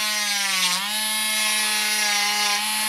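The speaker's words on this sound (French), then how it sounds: "là, on va venir la passer très délicatement à l'intérieur" A steady, high-pitched electric whine from an electric nail file with a ceramic bit working along the cuticles, holding one tone with a brief dip in pitch, close and continuous.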